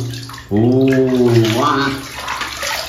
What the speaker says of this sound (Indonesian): Pertama-tama kita siram nih teman-teman.